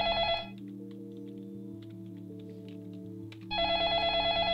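A telephone rings in the video game Façade with two loud electronic ring bursts, one at the start and one at the end, separated by a pause under a steady sustained music bed.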